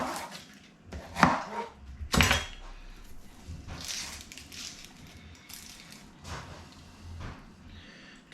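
Onions tipped into a Ninja soup maker for creamy tomato soup, landing as a few sharp, close thuds and clatters against the jug, followed by softer rustling and knocks in a quiet kitchen.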